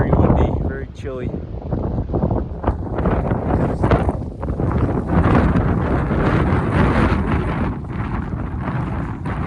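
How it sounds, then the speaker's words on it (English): Loud, strong wind buffets the microphone in constant roaring gusts on a mountain top, with a voice speaking briefly under the rumble. "Very windy, very chilly."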